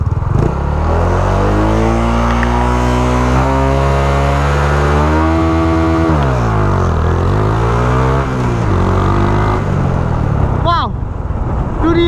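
Honda Wave 125i motorcycle geared with 13-36 sprockets revs hard and pulls away, the engine climbing in pitch through several rises and drops, loud and close, with someone speaking over it.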